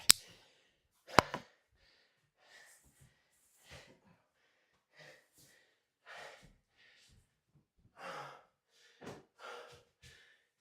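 Heavy breathing after Turkish get-up exercise: a sharp gasp and a catch, then a run of ragged exhales, sighs and snorts spaced through a quiet room, close to the microphone.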